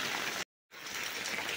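Heavy rain pours down in a steady, dense hiss that fills the whole clip, cutting out completely for a split second early on before resuming just as strong.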